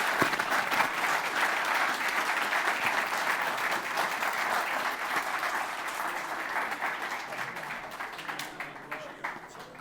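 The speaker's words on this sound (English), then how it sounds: "So a big round of applause to Skadex." An audience at a university innovation challenge applauds an advanced-stage startup prize winner with sustained, loud, even applause that holds steady for nearly ten seconds before beginning to thin out.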